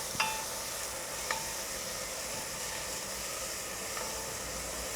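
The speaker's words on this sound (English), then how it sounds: "now we're gonna throw in our tablespoon of garlic and a 1/4 cup of brown sugar to melt down over the next minute or so" A tablespoon of garlic and a quarter cup of brown sugar sizzle softly as they melt in a pan for smoky, sweet brisket jam, a faint steady hiss broken by a couple of light utensil taps.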